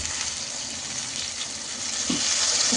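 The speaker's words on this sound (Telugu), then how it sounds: "మనం అయితే కొంచెం అయితే వాటర్ యాడ్ చేసుకుందాం." Water pours steadily into a pan of frying eggplant curry, a continuous gushing splash at moderate loudness that swells slightly toward the end, with no talking.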